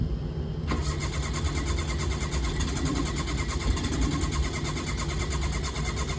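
A Suzuki Cuore's engine cranks steadily and continuously while the accelerator is pumped, a rhythmic whirring churn that stays loud and close throughout without catching.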